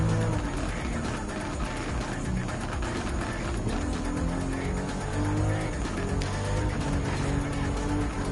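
A race car in Gran Turismo 7 with a continuous roaring engine whose pitch rises and falls through gear changes, joined by steady tire squeal while cornering, loud and unbroken throughout.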